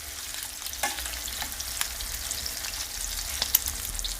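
Large meatballs frying in a hot pan, a steady close sizzle and crackle, with a few soft clacks and scrapes as they are turned over.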